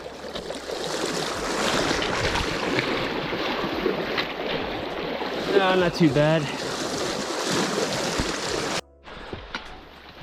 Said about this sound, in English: This is the Moose River.